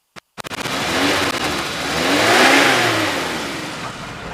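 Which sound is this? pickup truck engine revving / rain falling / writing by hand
pickup truck engine revving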